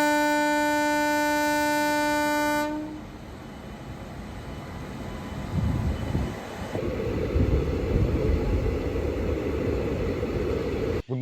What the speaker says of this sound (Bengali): এই সবেমাত্র আমাদের চক্রধরপুর এক্সপ্রেস আমাদেরকে বাঁকুড়াতে নামিয়ে দিয়ে গেল